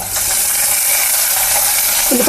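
Carrot and onion pieces frying in a pan for pappu charu give a steady bright sizzle throughout, with faint metallic stirring clicks near the end.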